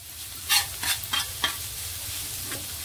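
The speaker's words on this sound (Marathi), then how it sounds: "आता मी एक मोठा चिरलेला असा कांदा घातलाय, तर त्याच्यामध्येच आपण मिरची घालूया। ही ढोबळी मिरची ही सुद्धा बारीक चिरून घेतली, छान मिक्स करायचं।" Chopped onion and finely cut capsicum frying in butter in a pan while being stirred, a steady close sizzle broken by several scraping spatula strokes, with no voices.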